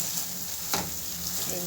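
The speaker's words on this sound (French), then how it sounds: "Après 2 minutes, je vais ajouter un peu de viande hachée." Tomato concentrate fries in a pan ahead of minced meat for a pasta dish, making a close, continuous sizzle with a brief stirring scrape midway and no voices.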